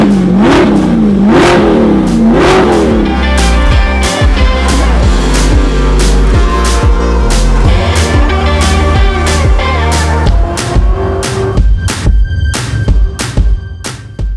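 Chevrolet Corvette C8 fitted with a titanium exhaust revving hard up close, loud rising and falling engine roar with crackling pops as it settles; very loud throughout.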